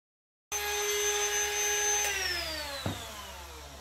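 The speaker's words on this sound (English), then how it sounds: "I'm going to get the old router out. I'm going to route over the edges, make them all round the same as each other" A router rounds over the edges of wooden chair parts: the motor starts abruptly with a loud steady whine, then spins down in falling pitch while a brief bump sounds near the end.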